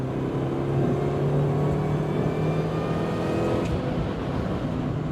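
An R53 MINI Cooper S with a 17% smaller supercharger pulley and upgraded intercooler, its engine droning steadily with a faint supercharger whine, a constant close drone with no talk.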